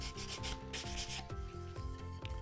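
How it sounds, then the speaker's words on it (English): Light hand sanding of oak bevels with 600-grit paper gives a steady run of short rubbing strokes, close and even, with no talking. "I've given my bevels just a real light sand with 600 because I want to keep them sharp to look at, not sharp to touch"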